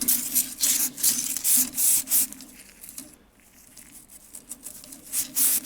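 Spring of a vintage Ansonia steel kitchen clock being wound and scrubbed with a kerosene-soaked scouring pad, giving rhythmic close rubbing strokes in steady bursts with a brief lull midway.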